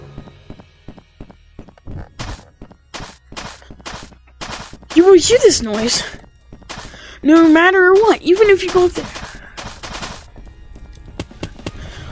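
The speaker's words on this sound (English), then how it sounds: "you will always and continuously hear this stupid stomping noise" Steady stomping footsteps in the VR game Capuchin, a run of sharp thuds under intermittent talk, with a couple of louder voiced, whinny-like bursts in the middle.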